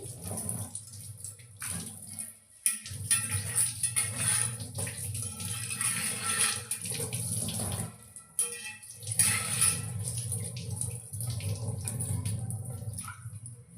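Steady running water splashing close by, with scrubbing and sloshing as an iron dosa pan is rinsed under a tap; no voices.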